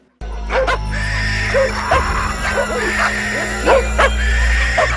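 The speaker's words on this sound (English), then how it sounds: "her dog is acting strange after getting zapped by that radioactive muffler" A dog in The Tommyknockers, acting strangely after being zapped by a radioactive muffler, gives repeated short yips and whimpering cries over a steady low rumble.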